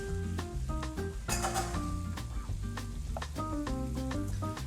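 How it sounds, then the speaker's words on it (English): Shrimp and green onions fry in a hot pan with a steady, close sizzle that stays partly buried beneath louder background music throughout. "Make sure you hear that beautiful sizzle."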